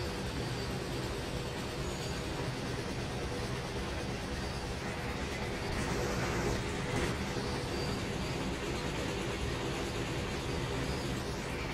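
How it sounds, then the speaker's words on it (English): A grain train of hopper cars rolls steadily along the rails with a continuous broadband rumble and rattle, heard from inside a cab, fairly loud and unbroken with a brief swell midway. "Says it's a grain train."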